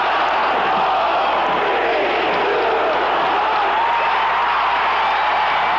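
A recorded crowd cheering at the 1980 Olympic hockey game after the US beat the Soviet Union 4–3, a dense, continuous roar of voices and whoops from a large arena audience, loud and sustained without letup.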